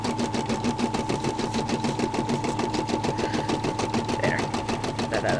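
A Brother SE-400 embroidery machine stitches an outline with a rapid, steady needle rhythm, an even mechanical chatter running unbroken throughout.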